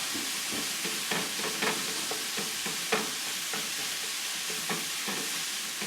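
Meat sauce for a Rochester garbage plate sizzles steadily in a pan while a utensil stirs it, making repeated soft scrapes and clacks over the constant hiss.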